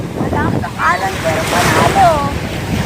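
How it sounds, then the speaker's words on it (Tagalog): Strong surf pounds the shore at Lily Beach Resort in Lubo, Batangas: a loud, continuous roar with wind buffeting the microphone while people's voices call out over the waves. "Lumakas yung alon!"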